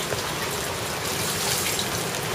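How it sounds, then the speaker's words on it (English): Water poured over the hands at a Shinto shrine purification basin in Tokyo, a close, continuous splashing gush with no talk over it. "you take the water, pour it over your hands"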